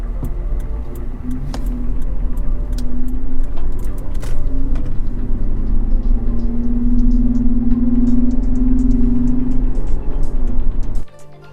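A Toyota 4Runner fitted with an S&B cold air intake cruises on a road test, its engine a steady low drone that swells gently as it accelerates, heard close and continuous from inside the cabin before cutting off abruptly at the end.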